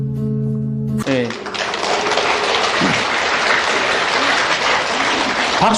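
Applause from a lecture audience bursts in after a short stretch of voice and continues as a dense, loud, sustained clapping wash that fills the rest of the scene.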